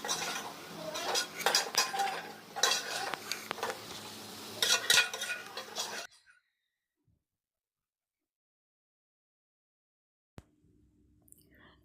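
Chicken and garam masala for biryani being stirred in a metal pot, with quick clanking and scraping of a spoon for several seconds, then near silence and one faint knock.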